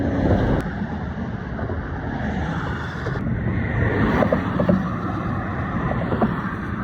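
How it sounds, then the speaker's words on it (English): Road traffic rumbles steadily while someone walks across a bridge. A constant low roar of passing vehicles is buffeted by wind on the microphone, with faint higher clicks and rattles in the background. "It's probably going to be hard to hear me, all the traffic"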